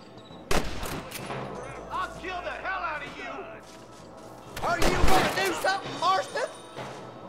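Bursts of gunfire in Red Dead Redemption, with sharp shots cracking out early and a heavier volley of overlapping blasts later, while characters talk between and over the shooting.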